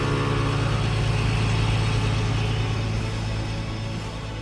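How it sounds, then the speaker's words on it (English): A ship's engine drones steadily and loudly throughout, a continuous low mechanical rumble with no voices. "Suddenly, Dad thought he heard the sound of an engine."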